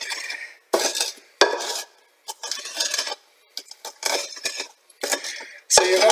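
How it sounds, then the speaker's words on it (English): Garlic being ground by hand with a wine bottle for Macedonian pinjur: repeated scraping, crunching strokes against a hard surface, coming in irregular bursts with short pauses between, close and fairly loud. "So you're going to want to keep grinding your garlic until you get a pretty good massification."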